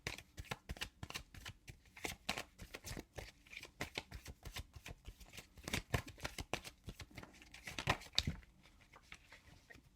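Tarot cards being shuffled by hand, a close, crisp run of rapid riffling and slapping strokes in an uneven rhythm that continues almost the whole time, with no talking.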